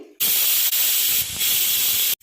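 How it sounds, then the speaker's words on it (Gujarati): A pressure cooker whistle releases a loud, continuous rush of hissing steam that fills the clip, starting abruptly and cutting off sharply. "અહીંયા કુકરની આપણી ત્રણ સીટી થઈ ગઈ છે"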